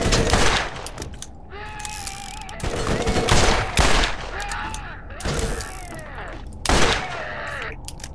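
Repeated bursts from the SNS gun in Borderlands, loud rattling volleys of rapid shots with mechanical clanks and whirs, broken by short pauses between bursts.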